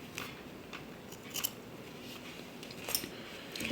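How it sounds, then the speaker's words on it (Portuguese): Scissors snip off excess T-shirt yarn while finishing a crochet children's rug, giving a couple of crisp, close cuts over a quiet background. "eu vou cortar o excesso do fio"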